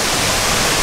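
Chahuaco waterfall in Pezmatlan, Calnali, Hidalgo, a loud, dense, steady roar of falling water filling the whole moment, heard close with no other sound.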